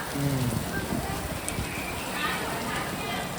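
Steady dense hiss of heavy rain pouring continuously, with voices talking briefly over it near the start.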